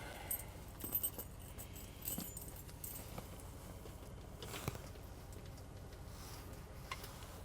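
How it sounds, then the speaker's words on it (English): Truck keys jangle in short metallic bursts as they are fumbled toward the ignition in a cold-stalled truck, close and moderately loud over a low steady background hum. "I don't know why I always gotta struggle with getting these keys in."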